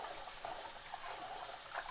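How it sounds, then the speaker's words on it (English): Running tap water pours steadily over rice being rinsed, a continuous close splashing hiss with small sloshing bumps and a brief knock at the end. "I'm just going to rinse this stuff out now."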